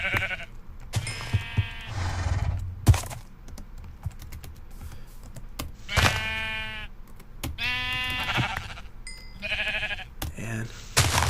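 Minecraft sheep let out several short bleats in separate bursts amid keyboard typing and clicking, fairly quiet and close, with no talking.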